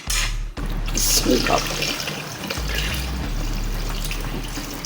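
Water is poured from a jug into a cooking pot of bong paya, a steady splashing pour with a brief interruption near the start, heard close and moderately loud in a kitchen.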